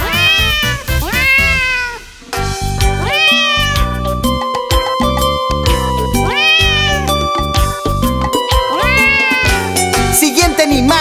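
A cat meows repeatedly in a children's farm-animal song, several drawn-out meows rising and falling over a loud, steady musical backing.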